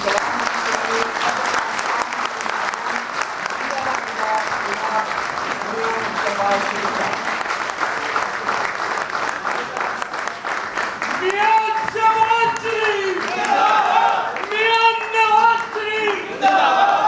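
An audience at a Pakistan Muslim League (N) inauguration gathering in Hong Kong claps steadily to welcome a newly elected president. The applause builds, and cheering voices rise over it near the end.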